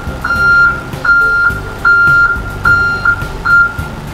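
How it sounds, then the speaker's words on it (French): A motorhome's loud reversing beeper sounds in steady, evenly spaced pulses, about six beeps over an idling engine rumble. "Nous avons équipé le véhicule, comme vous le voyez, d'un bip de recul arrière."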